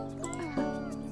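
A cartoon cat in the cozy street-management game Minami Lane gives a short, bright meow, a single quick rising-falling call over faint background game music.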